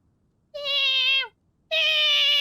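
A cat named Paisley in Genshin Impact lets out two clear, close meows, one drawn out and falling, then another after a short pause, with no talking.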